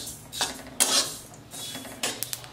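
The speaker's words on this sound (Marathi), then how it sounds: "ह्या आपल्या तिळाचा चांगला चटचट आवाज येतोय, म्हणायचं आपले तीळ भाजलेत" Sesame seeds dry-roasting in a pan are stirred, with scraping sweeps of a spoon against the metal and a few light clinks, close and moderately loud; the crackle of the seeds is not clearly separate, and no one speaks.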